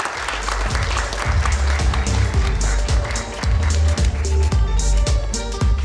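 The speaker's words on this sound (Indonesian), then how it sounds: "Tepuk tangannya dong." An audience at a panel discussion claps loudly and steadily, with some sharp close claps and low thumps, and a bit of background music and crowd noise running underneath.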